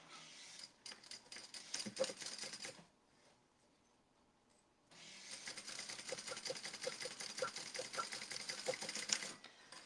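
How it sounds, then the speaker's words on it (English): Sewing machine stitching a Louie waist pack in bursts of rapid needle chatter, broken by a quiet pause of about two seconds, then running steadily again at moderate, close volume. "I don't know how Kasaya looks up the whole time she's sewing"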